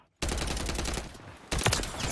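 Rapid automatic gunfire in the shooter Modern Warfare III, a loud close burst that briefly pauses and then resumes, with a voice speaking faintly under it.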